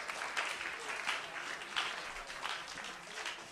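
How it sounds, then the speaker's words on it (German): Audience applause fills the studio of a German game show, a fairly soft but continuous patter of many hands clapping at once with no break. "Und jetzt bitte einen großen Applaus"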